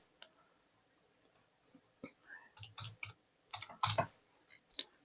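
Sharp computer mouse clicks, a few isolated and then several quick clusters, close and fairly soft against a quiet background.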